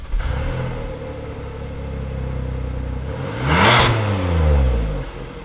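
A stock naturally aspirated V6 engine in a Kia Telluride SUV idles with a low steady rumble, then revs up briefly and falls back, a mild, smooth mid-pitched roar without much growl.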